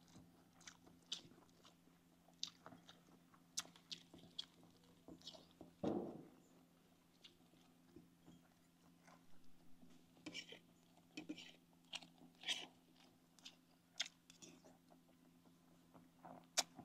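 Someone eats rice and fish outdoors with soft, close chewing and crunching, scattered light clinks of dishes, and a bump partway through, with faint murmured talk at times.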